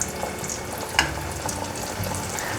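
Gluten sausage fries in hot oil with a steady, close sizzle and crackle and a single sharper pop partway through, with no voices.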